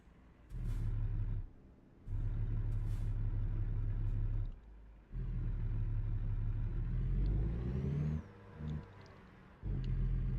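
A heavy-haul truck hauling a 90,000 scraper in a trucking video game, deep diesel rumble surging and cutting out in repeated bursts as the rig is worked through a tight turn, with short hissing air releases between.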